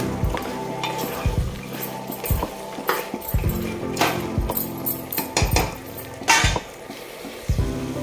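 Mutton korma being stirred in a metal pot after salt goes in, with repeated spoon clanks and scrapes against the pot over a low sizzle, close and fairly loud.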